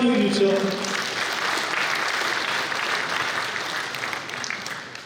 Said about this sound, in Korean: 박수 많이 해주십시오